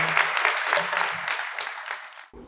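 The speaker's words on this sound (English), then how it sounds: "A round of applause, ladies and gentlemen." Audience applause at a young debaters' grand finale event: continuous, lively clapping from a crowd, sustained for a couple of seconds before cutting off abruptly.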